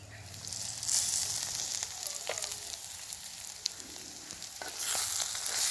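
Bitter gourd slices fry in a pan and get stirred, with a close, steady sizzle broken by occasional spatula scrapes and taps, and nobody speaking.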